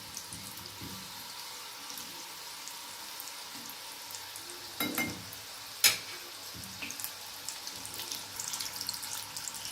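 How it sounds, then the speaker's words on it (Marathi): A Marathi breakfast farsan snack shallow-fried on a medium gas flame, a quiet steady sizzle with a couple of brief louder clatters midway and light crackling toward the end, no talking. "मीडियम गॅसवरच आपल्याला हे तळायचे."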